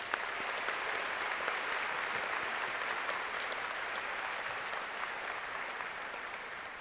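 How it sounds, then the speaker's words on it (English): Audience applause fills a university commencement ceremony, a dense, steady wash of clapping that holds for several seconds and slowly fades toward the end. "But let us give them a big applause."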